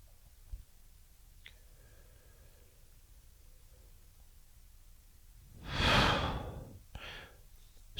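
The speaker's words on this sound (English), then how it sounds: "let's go ahead and take a nice strong deep breath in." One long, deep inhaled breath, close and breathy, swelling and fading over about a second, followed by a shorter second breath, set against faint quiet background hiss.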